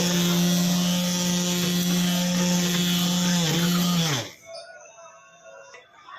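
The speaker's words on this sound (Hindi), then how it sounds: "देख सकते हो मैं ग्राइंडर से कैसे कर रही हूँ।" An electric kitchen grinder hums with a loud, steady motor drone as it lightly grinds vegetables, then spins down and stops abruptly, leaving quieter kitchen sounds.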